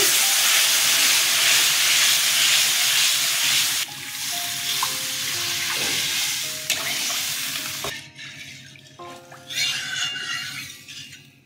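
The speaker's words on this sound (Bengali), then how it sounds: "মশলাটা কষানো হয়ে গেছে, জল দিয়ে দিচ্ছি।" Water poured into fried spice paste for a rohu fish curry with jackfruit seeds, pointed gourd and potato: loud continuous sizzle and hiss that abruptly drops, then dwindles into crackling and fading steam.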